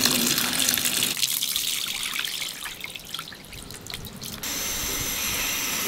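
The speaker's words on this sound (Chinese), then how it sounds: "这个冲一下水才没那么苦，" Palm flowers are rinsed under running water in a rural kitchen, with a loud gushing splash that eases into scattered drips and trickles before the steady flow returns.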